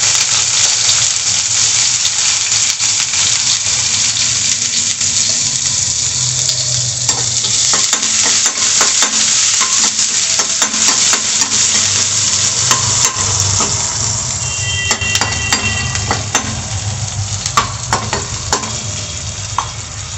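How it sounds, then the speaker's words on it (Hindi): Cumin seeds sizzling in hot oil in a pan on a gas stove, a loud, close, continuous crackle and hiss with scattered pops and stirring scrapes, no voice. "ये मैंने रख दिया है इसमें तेल गरम करने के लिए, इसमें डाल दिया है जीरा"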